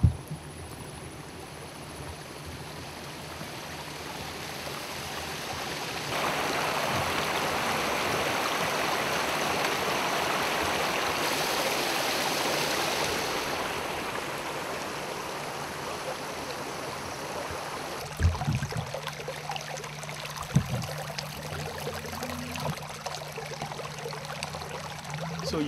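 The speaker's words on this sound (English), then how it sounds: "This is the pipe that the water is being pumped into." Water from a rubber factory on a Liberian rubber farm gushes steadily out of a pipe, a constant rushing pour that swells mid-way, with a few thuds and clatters near the end.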